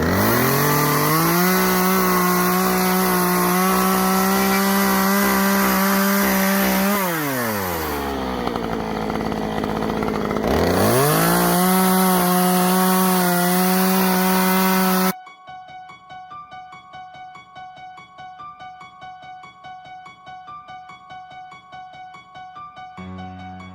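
A chainsaw carves a pumpkin shape, its engine buzzing loud and close for about fifteen seconds, dipping in pitch midway as it bogs down and then revving back up. Soft music follows after it stops.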